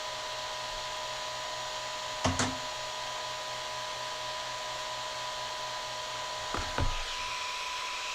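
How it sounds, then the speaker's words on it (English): A Bauer heat gun blows a steady, close whooshing hum on its fan-only setting, with two brief knocks partway through. "you'll want to turn it down on just a fan setting and let it blow a little bit to cool back off"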